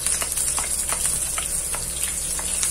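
Garlic and green chillies frying in oil in a pan make a continuous close sizzle with scattered crackles and spits throughout, and no one speaks.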